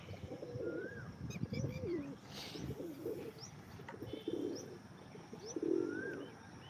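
Pigeons coo repeatedly nearby, with soft throaty rolls and a few thin chirps over a quiet outdoor background.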